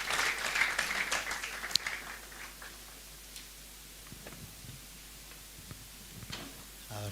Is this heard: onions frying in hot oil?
no